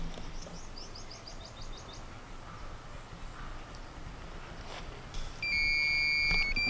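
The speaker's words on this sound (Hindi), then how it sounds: "जब बीप का सायरन बजेगा तो हमारा एक जोन कंप्लीट हो रहा है स्कैनिंग में" A geopathic stress scanning device sounds its beep alarm as it completes a zone scan: a run of quick chirping bleeps, then a steady, loud, sustained electronic tone near the end over a quiet background.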